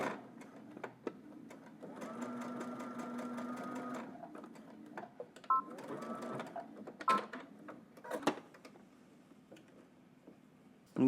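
A sewing machine stitches a jumpsuit seam in rapid mechanical bursts, pausing briefly between runs, with small clicks and handling sounds from pivoting the fabric.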